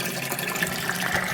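A garden faucet is opened and water rushes steadily through a hose toward a goldfish pond, making a continuous hiss and gush that stays even throughout.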